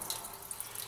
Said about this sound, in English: we're actually running more hot water into the grain bed